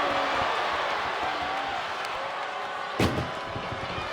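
An ambulance door slams shut in a WWE 2K25 ambulance match, one sharp loud bang partway through over a steady arena crowd hum.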